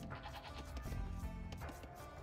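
Sheep bleating in the real-time strategy game Age of Empires, on an Arabia map with Britons: a few short wavering bleats repeat over a dense, busy game soundscape at moderate loudness.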